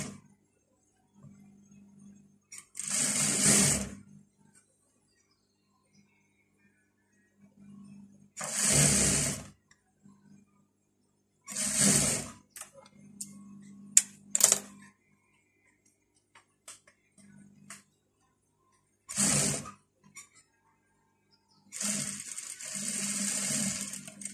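A sewing machine stitches fabric for a Moroccan Eid kaftan in several separate bursts of whirring, each a few seconds long, with quiet pauses and small handling clicks between runs. No one speaks.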